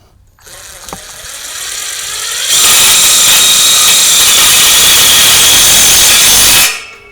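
A power driver sinks a self-tapping screw: a short ratcheting start, then a loud, sustained whine as the screw bites in, stopping abruptly.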